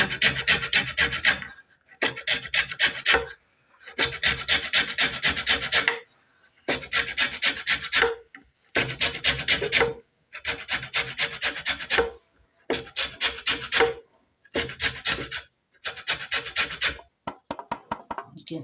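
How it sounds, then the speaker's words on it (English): A lemon is rubbed against a hand grater to remove its green zest, heard as about a dozen dry rasping strokes in close, regular bursts separated by short pauses. "I first of all start by grating the lemon so that I can get the green part."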